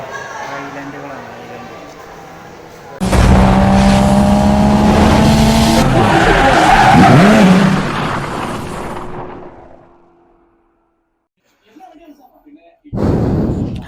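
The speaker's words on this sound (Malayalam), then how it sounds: "ബസ് ഇതാ എത്തിക്കൊണ്ടിരിക്കുകയാണ്." A bus pulls in near the sea: a loud, close engine roar swells and holds for several seconds, then fades away, with a brief burst of noise returning at the end.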